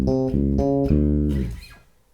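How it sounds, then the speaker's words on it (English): Bass guitar plays a disco-style octave line in D, bouncing between low and high notes in a quick, steady rhythm, close and clear before the last note fades. "this bass line is a really popular disco style figure that I'm sure you've heard before"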